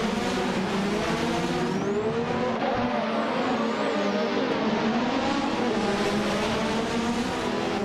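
A pack of race cars, led by a 1988 McLaren MP4/4 at Sportsland Sugo in a racing video game, pulls away with loud layered engine whines rising in pitch and a brief tire squeal.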